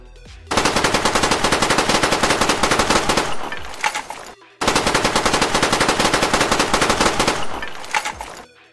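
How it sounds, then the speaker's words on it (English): The AK-74U submachine gun from the video game Call of Duty Black Ops fires in two sustained full-auto bursts, loud and rapid with a crisp rattling cadence, each trailing into a short mechanical tail. "The infamous Black Ops AK-74U."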